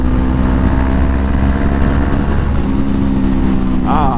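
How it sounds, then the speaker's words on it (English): A Honda CBR500R motorcycle engine runs with a steady, close, loud rumble throughout, holding an even drone with no clear revving. "I love how this bike sounds"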